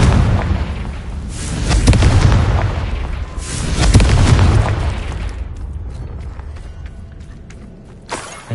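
Confringo fire blast spells bursting in Hogwarts Legacy, a pair of heavy booming explosions with crackling tails, then a quieter lull and a final short pop near the end.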